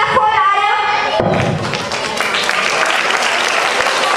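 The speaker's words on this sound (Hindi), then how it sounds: "A big clap" A school annual prize ceremony audience bursts into loud, dense applause, many hands clapping together with some thumps, close and sustained for several seconds.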